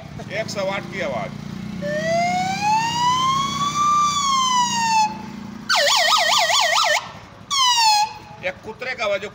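A human voice imitates a 108 emergency ambulance siren: long rising-and-falling wails followed by rapid warbling yelps, loud and close, with short pauses between bursts.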